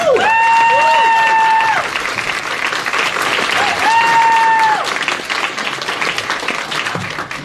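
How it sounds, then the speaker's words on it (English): Audience applause fills a cultural center hall at an overdose awareness day observance, a steady broad wash of clapping that runs throughout, with a voice rising in and out over the noise. "I just wanted to say a round of applause"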